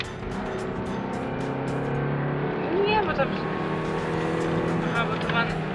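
A new car's engine drones steadily from inside the cabin and rises briefly in pitch as it speeds up, while people talk over it.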